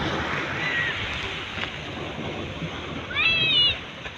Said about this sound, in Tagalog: Laka ng alon oh.